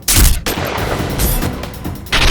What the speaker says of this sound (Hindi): उसके बाद कातिल वहां से दूसरी गोली चलाता है